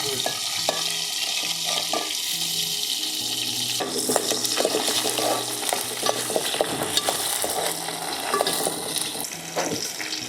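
Oil sizzles and crackles steadily as onions fry in tempering oil with dried red chillies and seasoning seeds, with a spoon stirring and scraping the pan in short bursts; a low hum underneath.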